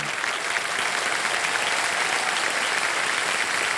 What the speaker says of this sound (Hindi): धन्यवाद दे दीजिए उनको और ताली बजती रहे